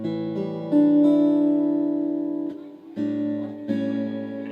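An acoustic guitar chord fingered in an A shape with one finger slid up, part of a song chord lesson, strummed about four times with long ringing decay between strums, close and alone.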